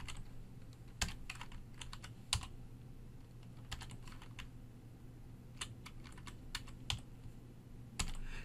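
Computer keyboard keys click in sparse, irregular bursts with short pauses as code is typed in Visual Studio Express 2013. The keystrokes are quiet and near, over a faint steady hum, with no voice.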